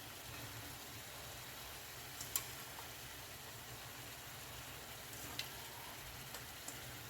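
Green beans fry in a pan with a faint, steady sizzling hiss, broken by a few small scattered pops.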